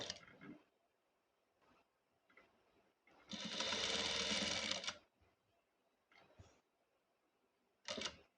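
A sewing machine stitching black lace onto a kurti neckline, with one steady burst of whirring stitching of about two seconds between quiet handling sounds and short taps.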